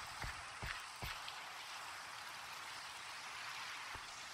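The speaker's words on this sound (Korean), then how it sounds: "누님아, 비가 오는 건 알고 있니?" Rain falling in the video game Minecraft, a faint, steady hiss with a few soft drip-like taps near the start.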